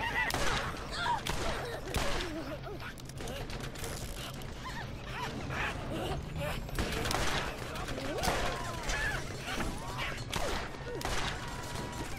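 Gunfire aimed at the player in Borderlands, scattered shots and rapid bursts mixed with game effects, fairly loud throughout, with a player talking over it.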